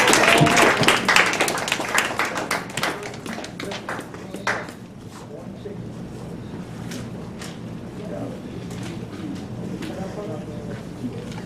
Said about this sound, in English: Can we give her a round of applause? Y'all can clap.